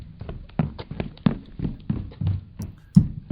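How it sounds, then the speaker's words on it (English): Footstep sound effect in a student coding project, a steady series of soft, dull taps at walking pace playing on its own. "I should hear some footsteps."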